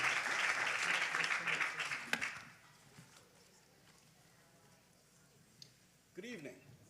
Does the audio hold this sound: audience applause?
yes